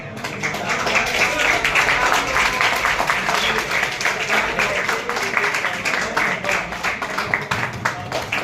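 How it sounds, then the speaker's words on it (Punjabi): Audience applause at an inter-college literary competition at SN College, Banga, dense sustained clapping from many hands throughout, with a voice faintly mixed in underneath. "ਤੁਹਾਡੀ ਸ਼ੇਰੀ ਤੁਹਾਡੀਆਂ ਤਾੜੀਆਂ"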